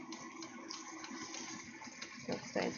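Tap water running steadily at a kitchen sink while broccoli is being cooked, a continuous low gush with a few louder splashes near the end.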